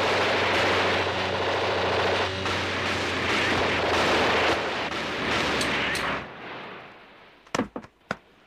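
Gunfire in a TVB Hong Kong police drama, a dense sustained barrage of loud shots and blasts that cuts off abruptly, followed by a few separate sharp gunshots.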